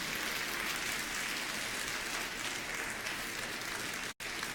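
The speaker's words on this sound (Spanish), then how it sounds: "está muy poquito ese aplauso al Señor" A church congregation applauding during a Spanish-language Sunday service, giving a dense, continuous wash of clapping that holds at an even level and cuts out abruptly for a moment near the end.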